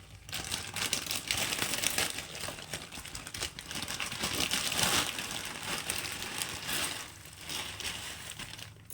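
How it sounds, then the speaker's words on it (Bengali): Dry chow mein noodles dropped and pushed into a pot of water with a little white oil, a dense close rustling crinkle with a watery, crackly wash running throughout and no talk. "এবার আমি চাউমিনগুলোকে দিয়ে দেবো।"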